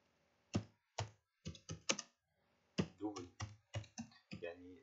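Fingers type C++ code on a computer keyboard, with crisp isolated key clicks in two quick bursts separated by a pause, close and clear with no talk.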